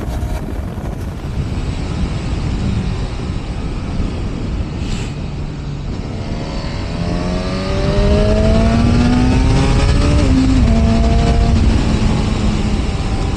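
A Honda CB1000 Hornet motorcycle being ridden, its engine note climbing through rising revs beneath heavy, constant wind rush, growing louder toward the end.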